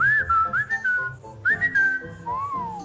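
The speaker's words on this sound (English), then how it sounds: "A unique feature with Inigo is that you get the power of the whistle." A whistle commands a companion in Skyrim, heard as clear, loud, melodic whistled phrases: two rising and falling tones, a short pause, then a lower closing note, with no speech.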